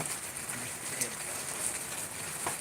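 Heavy rain falls steadily in a dense, even hiss with scattered drop patter, continuous and fairly close, with faint voices beneath.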